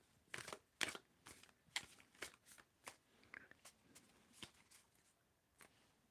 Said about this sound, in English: When do I need to stop shuffling?